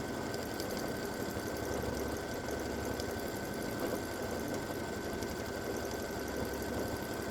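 An embroidery-hoop quilting machine runs steadily while line stitching an edge-to-edge double loop design, giving a continuous, even mechanical hum with a fine rapid needle rhythm throughout.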